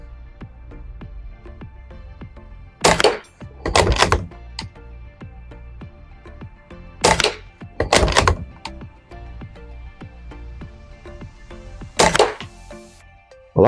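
Air gun pellets hit a reactive target in sharp, close cracks, often in quick pairs: two around the early seconds, two more midway and one near the end, with quiet pauses between.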